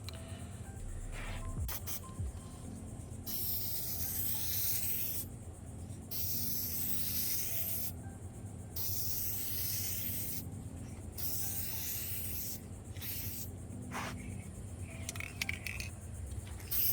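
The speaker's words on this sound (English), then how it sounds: "So what I'll do is shake the can for 2-3 minutes and then I'll apply the clear coat." A spray can of clear coat hisses onto a restored car headlight in repeated bursts of a second or two each, separated by short pauses, close and steady, with faint clatter at the start.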